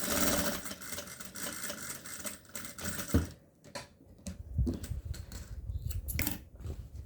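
A sewing machine runs in a quick, steady buzz while stitching closed the bottom of a fabric bread basket, then stops and leaves a few light clicks and handling noises.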